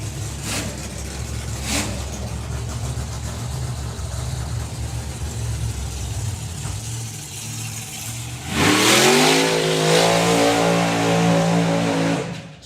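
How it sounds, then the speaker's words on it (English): A drag race car at the Hot Rod Drags does its burnout, a steady loud engine drone rising suddenly near the end into a roaring, high-revving wail with tire screech, close by and sustained. "Jeremy and Luke Watts doing his burnout."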